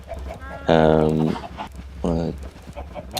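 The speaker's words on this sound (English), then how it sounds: "I have a little chicken farm to get me some feathers and some raw chicken" Chickens on a video game chicken farm give a couple of loud, drawn-out clucking calls close by, with someone speaking briefly alongside them.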